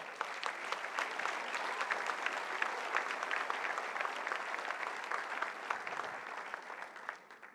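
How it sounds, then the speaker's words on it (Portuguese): A church congregation claps during a sermon, steady crowded applause at moderate distance that holds for several seconds and then tapers off at the end. "Aplauda o Senhor."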